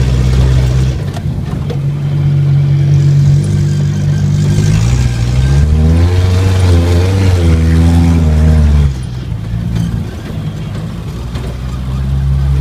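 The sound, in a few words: 1980 Chevy Luv engine running and idling high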